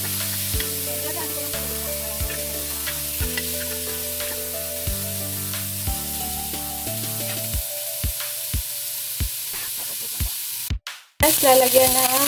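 Garlic and onion sizzling in a hot pan for chicken feet adobo, a steady frying hiss broken by regular stirring knocks, then a brief pause before louder sizzling resumes.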